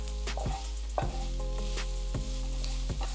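Cauliflower fries in a hot pan for tacos and is stirred around, giving a constant close sizzle broken by a few scraping clatters of the utensil against the pan.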